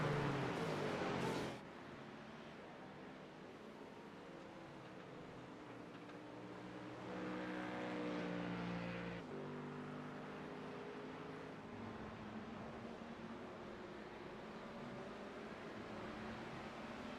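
USRA race cars lapping Virginia International Raceway: a faint, distant engine drone rises and swells briefly, then settles into a steady low roar.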